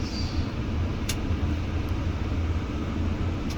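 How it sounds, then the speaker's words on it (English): Car driving onto the Hoover Dam, a steady low road rumble and engine drone from inside the vehicle, continuous and moderately loud with a couple of faint brief clicks. "Now we're driving onto the dam."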